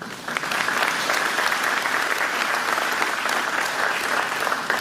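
Audience applause during a Michigan governor's address on her legislative agenda; dense, sustained clapping from a large crowd, loud and even from start to finish with no talk over it.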